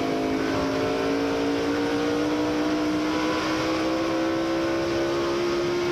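Jeremy Mayfield's NASCAR race car engine screams near 9,000 RPM during the 2002 Subway 400, a loud, continuous in-car drone whose pitch climbs slowly and steadily throughout.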